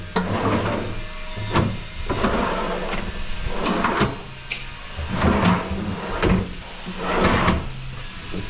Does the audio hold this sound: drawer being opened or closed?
yes